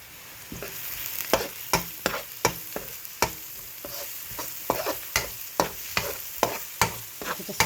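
Onion, garlic, chilies and peppers fry in a hot pan for a veg manchurian, a steady sizzle broken by regular sharp scraping stirs, close and fairly loud, with no voices.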